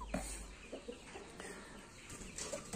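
A chicken with a stubby, broken tail clucks a few times in short soft bursts against a quiet background hum.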